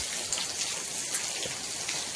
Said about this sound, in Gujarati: વરસાદ હવે ધીમો પડી ગયો